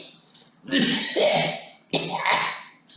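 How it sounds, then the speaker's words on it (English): A sick man coughs and clears his throat, two harsh, rasping bursts close by with a short gap between them. "When you hear kind of A sick man coughing."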